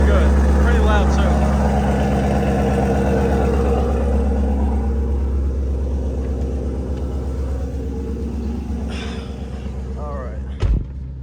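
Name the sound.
5.0 engine running after a warm start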